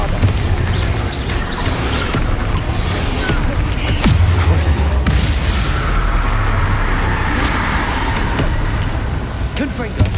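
A Bombarda explosion spell cast in the video game Hogwarts Legacy, a loud booming blast amid a constant roar of combat effects, with a sharp burst standing out near the middle.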